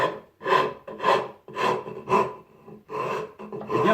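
A wood rasp files across wood in close, rough, rhythmic strokes, about seven scraping passes in four seconds with short gaps between them and no talk.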